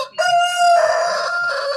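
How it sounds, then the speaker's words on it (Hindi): A rooster crows loudly and close by in a Himalayan mountain village in Uttarakhand, one long sustained call with a rising then steady tone, no voices around it. "मुर्गे की आवाज आपको गांव में अब बहुत कम सुनाई देगी"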